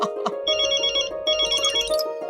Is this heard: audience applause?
no